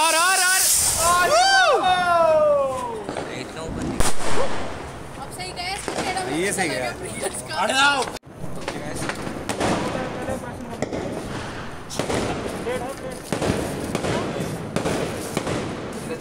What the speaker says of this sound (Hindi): ये फिर से ये लगी रॉकेट में आग